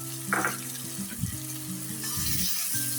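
Spice paste fries with onions in a pan for Eid beef bhuna, giving a steady sizzle with a few bursts of stirring and scraping, close and continuous, while a low tonal hum runs underneath.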